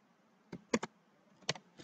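A few separate keystrokes on a computer keyboard, struck while entering a Windows command: four sharp, close clicks, two quick ones together and then a lone tap after a pause.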